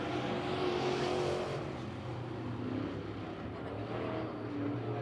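Modified race cars at Lavonia Speedway roar around the oval as a pack, a steady loud engine drone with overlapping whines, held at a constant level throughout.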